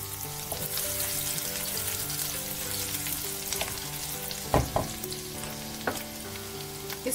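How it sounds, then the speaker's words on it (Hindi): Chopped garlic sizzles steadily in two spoons of hot oil in a pan for vegetable chow mein, a constant frying hiss broken by a few sharp stirring clinks, with no talking. "फर्स्ट हम डालेंगे कटे हुए गार्लिक लहसुन, इसको हम सॉटे करेंगे।"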